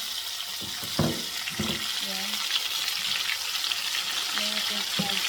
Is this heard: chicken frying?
yes